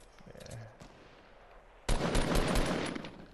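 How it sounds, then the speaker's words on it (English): Rapid automatic gunfire bursts out in an online shooter match, preceded by quieter rustling and a brief distant shot, then a sustained loud volley of shots crackling close by. "they're shooting at us"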